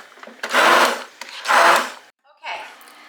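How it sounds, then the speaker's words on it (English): A kitchen blender purees onions in two short whirring bursts with a pause between, then a brief third spin at the end, loud and close. "I'm just going to give this a quick blend because David doesn't like onions"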